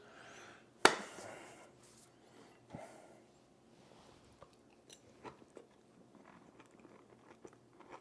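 One sharp crunch of a cockroach being bitten, then quieter chewing and small crackles over a near-silent background.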